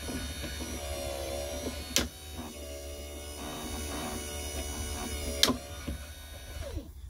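Steady electric motor drone with a mains-like hum from the trunk pull-down motor of a 1993-96 Cadillac Fleetwood, running continuously at close range, broken by two brief sharp clicks of the latch switch.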